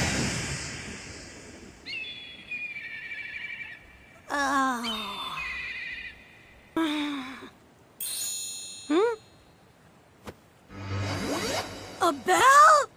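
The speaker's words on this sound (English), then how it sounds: "A bell? He dropped a bell!" A small bell drops to the ground during a ninja training fight in the Naruto cartoon. A bright metallic ring sounds amid whooshes and sharp effects, with voices heard through the scene.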